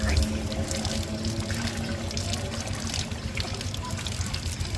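A steady pour of water as the nose is rinsed during ablution at a madrasa, continuous trickling and splashing at close range with faint voices in the background.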